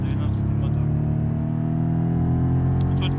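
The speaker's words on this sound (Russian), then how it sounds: "Тот же самый 412 мотор." Moskvich 412 engine in BeamNG on the Alivieska track, a steady droning hum at constant revs, with someone speaking over it.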